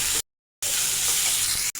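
Shrimp frying with sliced onion and green chili in a hot pan, a steady close sizzle that cuts out briefly near the start and again just before the end.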